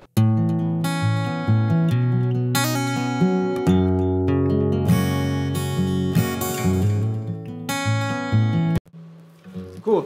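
Acoustic guitar recorded in Logic Pro with full processing, with steady strummed chords ringing out for about nine seconds, then a brief quieter note and a final strum; close, full and alone with no talking.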